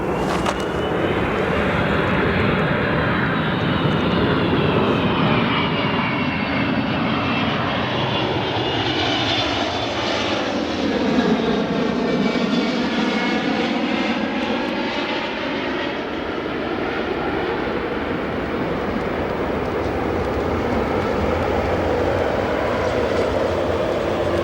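A Boeing 777 airliner landing at O'Hare International Airport: a loud, sustained jet engine roar with a sweeping, shifting whine as the aircraft passes, heard from outside for the whole stretch with no talking.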